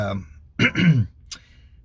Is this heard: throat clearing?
yes